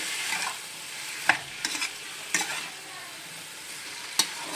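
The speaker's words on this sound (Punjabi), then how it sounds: "ਅਸੀਂ ਟਮਾਟਰ ਦੀ ਪਿਊਰੀ ਤੇ ਮਿਰਚਾਂ ਬਰੀਕ ਕੱਟੀਆਂ ਹੋਈਆਂ ਵਿੱਚ ਪਾ ਦਵਾਂਗੇ ਤੇ ਇਹਨੂੰ ਵੀ ਨਾਲ ਹੀ ਅਸੀਂ ਭੁੰਨਾਂਗੇ" Tomato puree and finely chopped chillies sizzle and fry in a pan for a mixed vegetable dish, with a steady soft hiss broken by a few sharp stirring scrapes.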